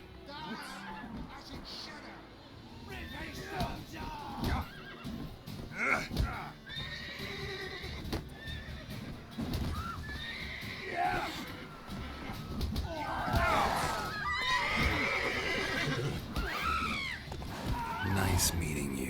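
Horses neighing and whinnying in the video game The Witcher 3: Wild Hunt, several loud whinnies mixed with hoof clatter and thuds, with voices talking throughout.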